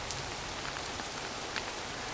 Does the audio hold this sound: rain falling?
yes